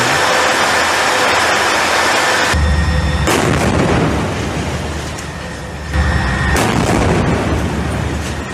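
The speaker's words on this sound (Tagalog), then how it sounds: "natukoy ng IDF ang mga anti-aircraft missile launch position ng Hamas dahil sa nagpaputok ang mga ito." Anti-aircraft missile launches and heavy fire by Hamas in the Gaza Strip, a loud, continuous roar of booming blasts with sudden sharp onsets, captured in news footage.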